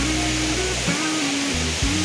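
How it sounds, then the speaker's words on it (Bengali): At Jonha Falls in Jharkhand, the waterfall gives a loud, constant rushing roar with no break, and a steady low hum sits beneath it. "এইখানে ফলসটা জলটা পড়ছে"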